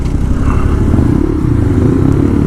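A Honda Grom, a small motorcycle, rides off-road into a grassy field, its engine a loud, close, continuous rumble with rattling and clattering throughout.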